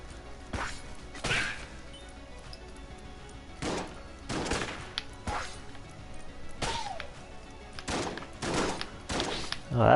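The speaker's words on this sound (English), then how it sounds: "Oh, that's a lot of bullets." Bursts of rapid gunfire from many bullets in the video game Enter the Gungeon come in several loud separate volleys across the stretch, with whizzing and impact cracks between them.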